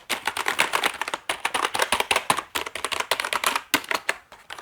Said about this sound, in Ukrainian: І ось така клавіатура, ось так вона шумить.